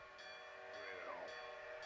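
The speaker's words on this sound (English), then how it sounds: "Is that a motherfucking train?" A faint, distant train horn sounds, its tone sliding lower as it passes, over low background rumble.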